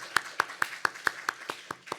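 A congregation in a Korean church in Hawaii claps in a steady unison rhythm, about nine sharp, evenly spaced claps in two seconds, fairly close and moderately loud with quiet room sound between them.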